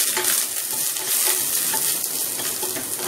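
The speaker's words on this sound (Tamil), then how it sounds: "இதை வதக்கிட்டு ஆற வச்சு" Fennel, poppy seeds and green chilies sizzling and being stirred in a pan for vegetable kuruma, a steady close hissing fry with faint scraping throughout and no talk.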